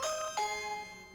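A video doorbell chime rings out, a short two-tone ding-dong played once, clear and close with a ringing tail that fades over about a second, no talking.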